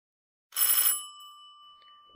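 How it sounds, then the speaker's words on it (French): A single bright doorbell ring strikes sharply and then lingers as a clear, fading tone, with faint small knocks near the end. "au coup de sonnette qu'il fit entendre"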